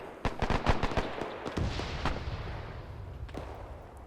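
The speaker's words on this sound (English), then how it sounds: "And there is some gunfire being exchanged." Rapid bursts of gunfire and heavy booms from a tank battle in the WWII setting of Arma 3, crackling near and far in a dense cluster before thinning into scattered distant shots.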